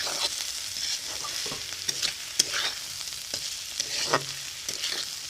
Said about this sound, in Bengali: তো ভেজে রাখা মকা মাছগুলো দিয়ে দিয়েছি। এখন একটু নাড়াচাড়া করে নেব।